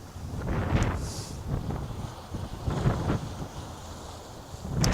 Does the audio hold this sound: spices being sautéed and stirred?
no